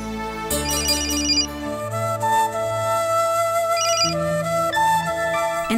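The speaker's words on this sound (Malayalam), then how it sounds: "സത്യയുടെ ഫോൺ അടിക്കുന്നു." A mobile phone ringtone plays a bright, looping electronic melody with repeated chiming notes, loud and continuous for several seconds with no talking.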